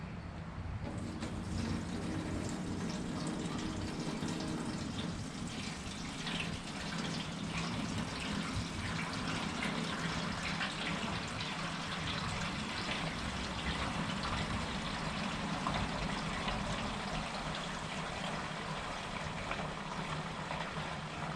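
Liquid pours from a jug into the radiator of a 1961 Pontiac Laurentian in a continuous gush, a soft, even glugging flow that runs unbroken for about twenty seconds.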